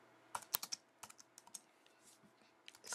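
Close, quiet clicking of computer keyboard keys while code is typed for an iPhone SDK table view tutorial, in uneven bursts of keystrokes with short pauses.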